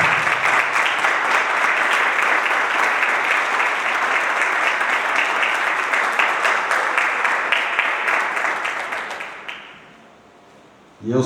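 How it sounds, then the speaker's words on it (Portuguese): Church congregation applauding together in steady, dense clapping that holds strong for about nine seconds before fading out quickly near the end. "Vamos dar a Ele uma salva de palmas em nome de Jesus"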